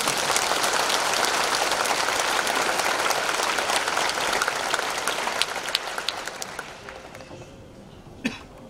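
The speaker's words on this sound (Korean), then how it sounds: "우리 한번 박수로 한번." A Korean church congregation claps during a thanksgiving worship service, a dense, loud wash of applause that holds steady, then tapers away near the end, with a cough or two standing out afterward.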